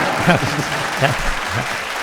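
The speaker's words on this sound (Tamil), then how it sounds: "பாதிக்கப்பட்டவெல்லாம் கைத்தட்டுங்க" Audience clapping at a Tamil comedy stage show, a steady wash of applause from a crowd running throughout, with brief speech-like bursts heard over it.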